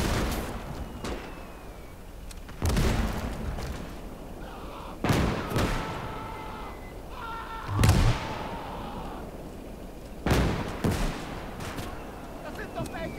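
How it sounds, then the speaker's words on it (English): Gunfire in the WWII strategy game Gates of Hell, with several sharp bursts of shots and booms spaced a few seconds apart over a low ambient battlefield rumble, while someone talks. "Oh, somebody's shooting."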